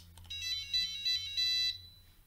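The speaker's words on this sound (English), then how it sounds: "So we will try to ring bell first." An electronic bell in a burglar alarm system demo rings in several short repeated bursts of a bright, buzzy electronic tone, close and clear over a low hum, then stops.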